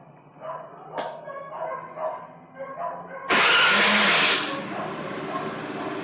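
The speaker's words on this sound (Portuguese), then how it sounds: "agora vamos dar a primeira partida nela e ver se resolveu o problema do barulho" A repaired Honda Lead scooter engine cranks and catches, bursting into a loud, steady idle after a few seconds of barking dogs in the background, close by with no talk.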